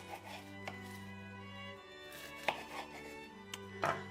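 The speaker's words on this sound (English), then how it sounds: "So they use white onions, as you can see. And we need to chop that into fine little pieces." A knife chops white onions into fine pieces on a board, giving a handful of distinct close thuds at irregular intervals over a low steady hum, with no voices.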